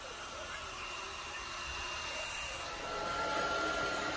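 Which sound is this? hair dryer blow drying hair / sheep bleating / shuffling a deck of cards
hair dryer blow drying hair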